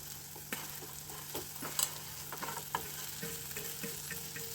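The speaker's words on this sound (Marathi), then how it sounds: "आता ह्या शेवया या फोडणीमध्ये व्यवस्थित अशा मिक्स करून घ्यायच्या" Roasted vermicelli is stirred into a sizzling spiced oil tempering for upma, a soft steady fry with scattered spoon scrapes and clicks close by, with no talking.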